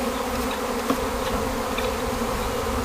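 Honey bees buzz steadily around a hive during a spring inspection, a dense continuous drone close by with individual insects passing near, no talking.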